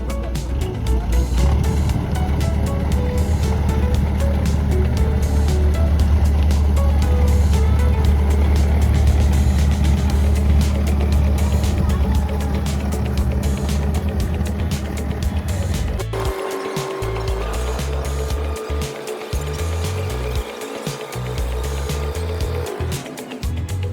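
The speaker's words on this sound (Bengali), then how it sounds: "একটা ট্রলার যাওয়ার সাথে সাথে আরেকটা ট্রলার কিন্তু ওই দিক থেকে আসছে।" Motorised fishing trawlers chug past on the water at Digha Mohana. A heavy, continuous engine drone dominates, then thins abruptly into a lighter, uneven throb as one boat moves off and another approaches.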